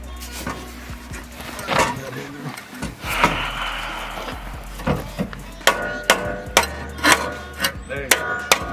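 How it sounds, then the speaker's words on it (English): Sharp metallic hammer blows on a part during a turbo Mazda Miata engine swap in a garage, several uneven strikes growing more frequent toward the end, with people talking nearby. "Hit it with a hammer once."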